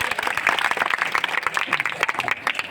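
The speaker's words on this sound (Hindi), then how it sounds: "थोड़ी अगर ताली बजाना है तो खुल के बजा लो" An audience at a kavi sammelan poetry gathering claps steadily, dense applause filling the space throughout.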